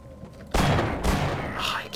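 Loud, broadband blasts of shotgun fire in the Half-Life video game, a sharp burst opening a dense stretch of shooting with another hit near the end, while a voice talks in the background.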